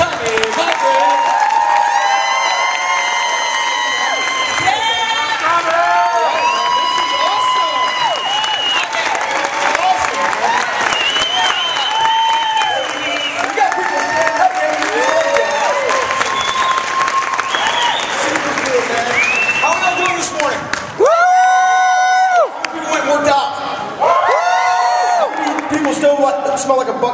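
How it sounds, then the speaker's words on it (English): A large crowd at a Beachbody fitness summit claps, cheers and whoops loudly and continuously for close to half a minute, with upbeat music playing and shouts rising above the applause. "Please help me give a huge round of applause to Miss Barbie Decker and Mr. Tommy Mygrant."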